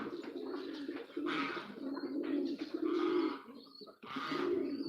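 Male tiger pigeons on a farm coo steadily while courting and chasing females, with repeated throaty rumbles up close and almost no talk.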